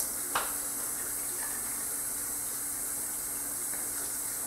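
Water runs steadily from a tap while shaving with a double edge safety razor, a soft continuous hiss filling the whole stretch with a faint splash near the start.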